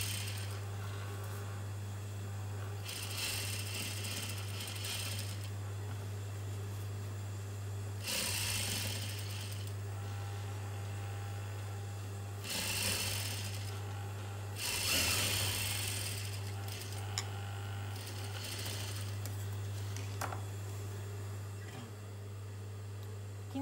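A sewing machine runs top-stitching along a seam on a nighty in several separate bursts of fast whirring, quiet pauses between them under a steady low hum.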